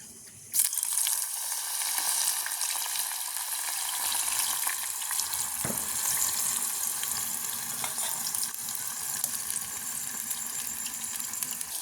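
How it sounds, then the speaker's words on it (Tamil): Steady crackling sizzle of eggplant frying in hot oil, continuous and close, with a few faint clinks and no talking. "கத்திரிக்காய் நல்லா பொரிக்கணும்."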